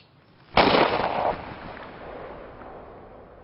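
A single sharp gunshot fired at a deer in a horror film, one loud crack followed by a rolling echo that decays over a few seconds in open outdoor space.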